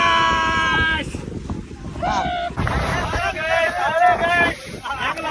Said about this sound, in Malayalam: ഞങ്ങൾ അതിമനോഹരമായ ബോട്ട് യാത്രയിലാണ്.